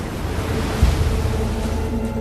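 Stormy sea churning under strong wind, a dense roaring wash of waves with a heavy surge partway through, loud and continuous for the whole stretch.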